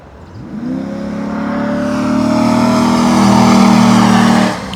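A 1998 Corvette running nitrous accelerates hard, its engine note climbing in a long, steady rising pull that grows louder over several seconds before cutting off abruptly near the end.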